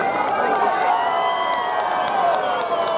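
Crowd at an outdoor fight event in Vlasinje cheering and applauding after a bout, a continuous loud roar of voices with scattered whoops and claps, steady throughout.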